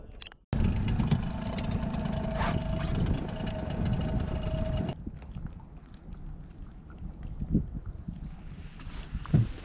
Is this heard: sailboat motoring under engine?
yes